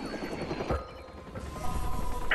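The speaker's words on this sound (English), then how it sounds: "Now what about these helicopters?" Helicopters in the video game Watch Dogs, a rotor thrum with mechanical whirring and ratcheting game effects, moderately loud and shifting in intensity.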